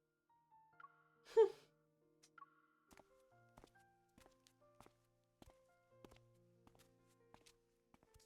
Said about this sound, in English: The only audible sound is our rhythmic footsteps